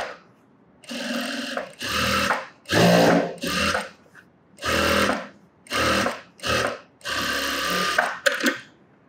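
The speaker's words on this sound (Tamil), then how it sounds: "எட்ஜில் தையல் போடுறேன்." A tailor's sewing machine stitching along a fabric edge for a sleeveless top, running in about eight close, loud bursts of rapid whirring separated by short pauses.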